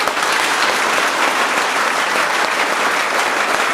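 A group claps together in steady, dense applause that holds at an even loudness from start to finish, with no voices standing out.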